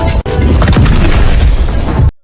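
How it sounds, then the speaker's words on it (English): A cannon fires in a single loud, sharp boom, followed by a rumbling, crackling roar that fills the next two seconds before cutting off abruptly, with no talk over it. "Fire the cannon."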